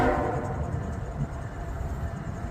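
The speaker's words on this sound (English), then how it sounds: "Single locomotive in the front, intermodal." An intermodal freight train led by a single locomotive passes near North Baltimore, with a continuous low rolling rumble and a brief tonal horn trace at the start, no talk.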